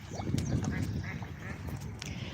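Ducks quacking and splashing as they bathe and swim at a duck pond outdoors, scattered calls at moderate distance over a continuous ambient wash.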